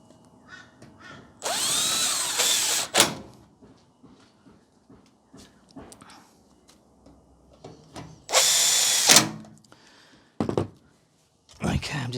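A power drill drives screws into the side panel of an Electrolux/Westinghouse clothes dryer, sounding as two loud whirring bursts with shorter spurts after, separated by quiet handling noises and light movement.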